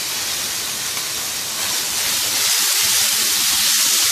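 Chicken hits a hot tawa for Lahori-style smoky tawa chicken, a loud, steady sizzle that swells slightly and holds its hiss throughout with no voices.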